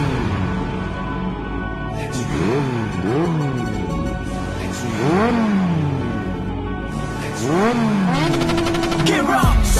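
An inline-four motorcycle engine revs hard while riding, its loud pitch climbing and dropping in several quick sweeps, then holding a high steady whine near the end.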